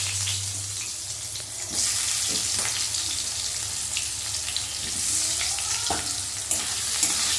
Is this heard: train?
no